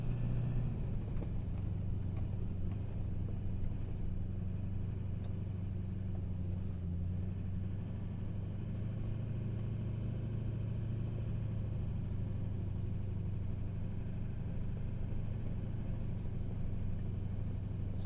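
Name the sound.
car driving onto beach sand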